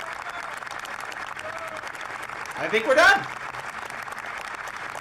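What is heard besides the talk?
applause at budget announcement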